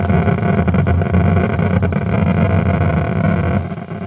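Spaceship thrust from an Asteroids multigame prototype roars as a loud, steady, engine-like rumble with a broad hiss on top, holding constant for several seconds before easing slightly at the end.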